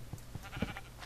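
Sheep bleating in Minecraft, a few short bleats close by over a faint steady background, brief and fairly quiet.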